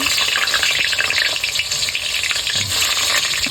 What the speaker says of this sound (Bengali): আজকে আলুটা আমি ভেজে নিচ্ছি